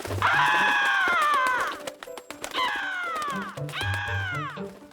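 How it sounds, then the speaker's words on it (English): A crow caws three times, harsh drawn-out calls close by, separated by short gaps with faint clatter in between. "Oh, that pesky black bird again."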